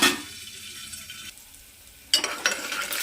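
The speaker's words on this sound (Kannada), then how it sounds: "ಈಗ ನೋಡಿ, ಇದು ಚೆನ್ನಾಗಿ ಫ್ರೈ ಆಗಿದೆ ಸ್ನೇಹಿತರೆ, ಶೇಂಗಾ ಬೀಜ ಎಲ್ಲ" Peanuts and curry leaves frying in a pan for a poha breakfast dish, a fizzy crackling sizzle that drops to near quiet for a moment, then bursts back loudly as the pan is stirred.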